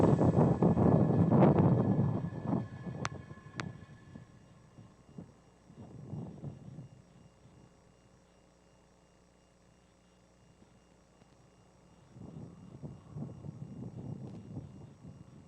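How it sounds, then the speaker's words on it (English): Falcon 9 rocket lifting off from Space Launch Complex 4 East at Vandenberg carrying Starlink satellites, a broad rumbling roar that swells loud at first, fades to a low distant drone, then rises again. "successful liftoff of Falcon 9 from Space Launch Complex 4 East at Vandenberg"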